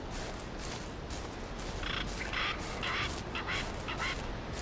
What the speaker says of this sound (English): I hear turkeys, I don't know where they are though.